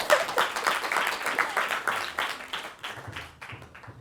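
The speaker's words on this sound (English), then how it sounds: "You can clap now" Applause from an audience at a talk on higher education policy, a dense patter of clapping that gradually thins and fades over a few seconds.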